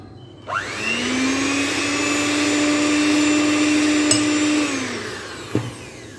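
Electric mixer whirring through creamy cake batter, a loud steady motor drone that spins up, holds for several seconds, then winds down with a brief knock at the end.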